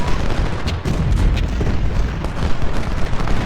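Civil War battle in a First Bull Run video game, with gunfire and artillery exchanged across a river. The crackling and booming runs on without a break as a dense, loud rumble.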